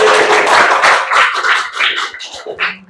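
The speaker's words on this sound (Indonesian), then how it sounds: "Tepuk tangan untuk kelas ini." Classroom applause for a student group at a thesis seminar session, a few seconds of dense clapping that thins out and tapers toward the end.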